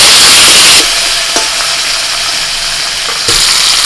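Chopped tomato hits hot oil with panch phoron and hing, a loud steady sizzle that drops as the pan settles, with a few stirring scrapes and no talk.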